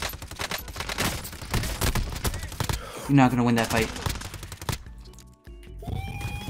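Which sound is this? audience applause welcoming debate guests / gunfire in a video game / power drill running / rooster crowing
gunfire in a video game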